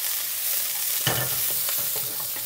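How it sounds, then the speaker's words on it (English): Onion wedges and spring onion stems stir-fry in a pan over medium heat, a bright steady sizzle with one firm stirring scrape midway and a few lighter taps. "Give it a good stir."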